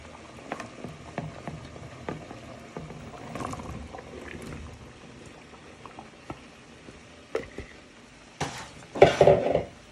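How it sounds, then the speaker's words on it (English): Swede, potatoes and carrots for scouse are tipped into a pot and stirred, with scattered soft knocks and clatters over a low bubbling, then a louder cluster of clunks and scraping near the end. "Now you add in all your vegetables, your Swede, potatoes and carrots."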